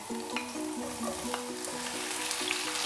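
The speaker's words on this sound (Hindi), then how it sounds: "ऑयल डालें, प्याज डाल देते हैं," Onions frying in about three tablespoons of oil for a bhindi keema dish, a steady close sizzle that runs throughout with light stirring taps on top.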